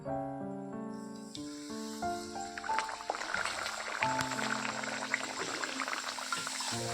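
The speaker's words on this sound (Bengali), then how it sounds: "এখন হচ্ছে লুচিগুলো ভেজে নেব" Luchi frying in hot oil: a steady, close crackling sizzle that builds and fills the clip, with tonal background music fading out as the sizzle takes over.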